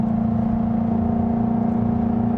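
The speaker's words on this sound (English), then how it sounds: "You heard that extra little bit of sauce coming from the exhaust, David?" A 2022 Jaguar F-Type with an 8-speed automatic holds a steady, loud exhaust drone under acceleration, a constant low hum with no gaps and no voices.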